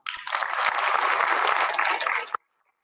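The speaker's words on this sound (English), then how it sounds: "Let's give everyone a round of applause." Audience at an FFA awards ceremony breaks into a steady burst of applause, full and even for about two seconds before stopping abruptly into silence.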